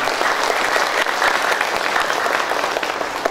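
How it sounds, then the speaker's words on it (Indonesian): An audience at a national seminar applauds for Chris Anjar with loud, dense clapping that continues steadily throughout, no voices rising above it. "Berikan aplaus untuk Chris Anjar"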